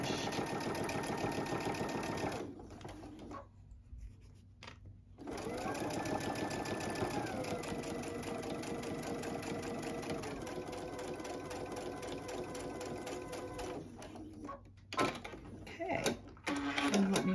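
Sewing machine edge stitching a zipper on a bag, with a close, steady motor whir broken by a few short pauses, and a voice talking intermittently over it.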